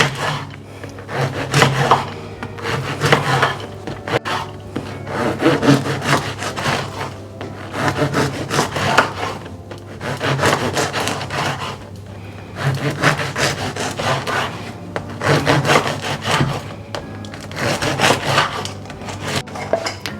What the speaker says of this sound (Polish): To jest akurat bakietka francuska z Lidla można ją dostać. Kroimy ją na takie zwykłe kanapki.